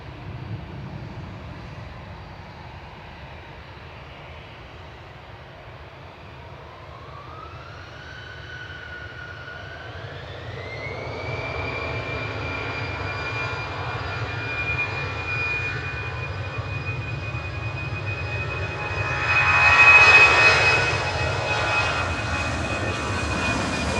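A Singapore Airlines airliner departs Manchester Airport: a high engine whine climbs in pitch and settles into a steady tone as the roar builds, swelling loudest near the end.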